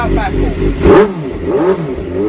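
A motorcycle exhaust fitted with its baffle revs up close: a short throttle blip swells and falls back within a couple of seconds.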